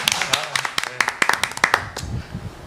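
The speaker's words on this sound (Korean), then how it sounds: "박수." Scattered hand claps from a small group at the start of a Korean Democratic Party Daegu chapter chair candidate interview, sharp irregular claps close by that thin out after about two seconds, with a low voice murmuring underneath.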